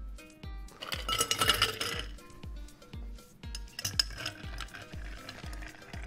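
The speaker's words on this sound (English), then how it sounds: "So fill the mixing glass with ice and give it a stir for about 30-40 seconds." Ice clinks against a mixing glass as a bar spoon stirs a Black Manhattan cocktail, producing a steady, rapid rhythm of bright, close clinks and rattles that continues throughout without any voices.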